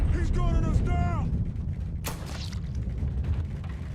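Gunfire in the video game Mafia 3, one sharp burst near the middle standing out over a dense low rumble of combat noise, with a voice speaking in-game early on.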